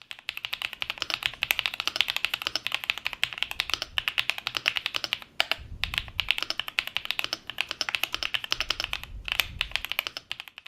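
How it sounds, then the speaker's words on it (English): Rapid, steady typing on a Royal Kludge RKS98 mechanical keyboard with linear Viridian switches, keystrokes close and crisp in a continuous flurry with a few brief pauses, no voices. "the linear Viridian switches, and we'll go over what it sounds like"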